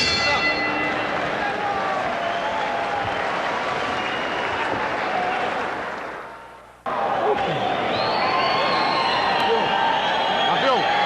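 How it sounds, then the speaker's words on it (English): A bell rings at a boxing match, Manny Pacquiao vs Emanuel Lucero, over steady arena crowd noise, which dips and then returns abruptly. "Bell has sounded."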